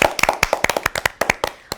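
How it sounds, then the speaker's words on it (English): A classroom of young children claps for a classmate, a quick run of distinct, fairly loud hand claps at an uneven rhythm lasting under two seconds. "Let us all clap for Purva."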